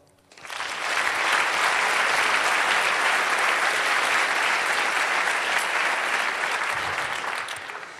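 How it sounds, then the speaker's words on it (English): A large crowd at a hacker congress closing ceremony breaks into applause, swelling quickly from near silence into a dense, sustained roar of clapping that holds for several seconds before easing slightly. "So give him a round of applause."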